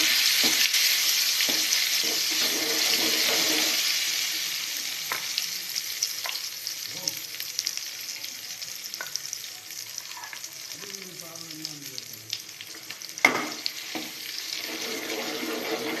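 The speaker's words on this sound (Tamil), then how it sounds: "கடுகு பொரிஞ்சதுக்கப்புறம் நம்ம அரைச்சி வச்சுருந்த பிரண்டை துவையலை சேர்த்துக்கலாம்." Ground pirandai chutney added to spluttered mustard seeds fries with a loud, continuous sizzle that eases slightly as it is stirred, with occasional scraping clicks of the spoon in the pan nearby.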